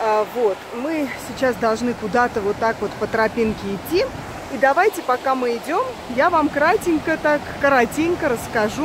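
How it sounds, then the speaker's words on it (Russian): Rushing water of the turbulent Vorotan river, a constant loud roar beneath someone speaking close to the microphone throughout. "Это река Воротан, одна из самых таких бурных рек."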